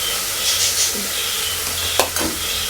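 Tomatoes being stirred in a hot pan for idli sambar, with a steady sizzle and frying hiss throughout and a brief clatter of the spoon against the pan near the end.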